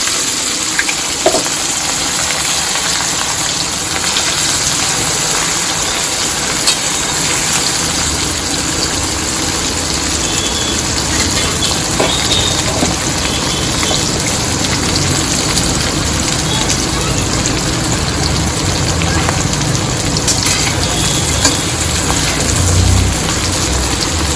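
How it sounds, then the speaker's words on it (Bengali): Chopped onions sizzling in hot oil in a pan during home cooking of chicken kosha, a steady dense broadband frying hiss that continues unbroken throughout with no voices. "এই পেঁয়াজ কুচোনোটা এখানে ঢেলে দিয়ে লাল লাল করে ভাজবো, অল্প লাল হবে"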